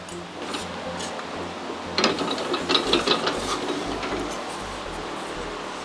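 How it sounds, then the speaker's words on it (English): A metal roller machine shapes material for a dancing kinetic sculpture, giving a continuous mechanical rumble with clicking, ratcheting bursts around the middle, moderately loud and close. "Years of experience has taught Steve how to create interesting shapes with the roller, and he knows exactly how to feed the material into it"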